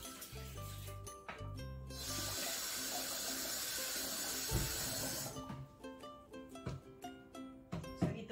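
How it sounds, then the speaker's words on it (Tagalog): Tap water pours steadily into a pot while glutinous rice is washed for biko, a few seconds of gushing flow followed by splashing, swishing and clinks of grains and pot, close and moderately loud. "Hugasan ko na isang beses lang itong malagkit."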